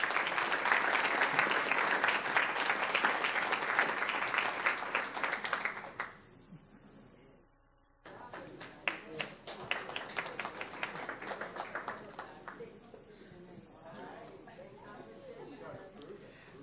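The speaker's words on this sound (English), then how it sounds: "Let's give them all a round of applause." A crowd claps loudly for about six seconds, then fades; scattered claps and murmuring chatter follow after a short pause.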